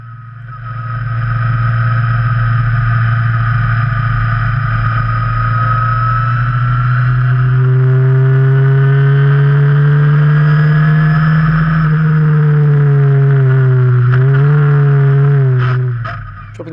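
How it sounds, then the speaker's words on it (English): Single-seat 1973 Formula Ford racing car engine droning loud and close under a steady load, its pitch stepping and wavering as the driver drops down through the gears into a hairpin, then pulling again before fading at the end. "Dropping down through the gears into first around the hairpin before heading up the hill towards the Devil's Elbow"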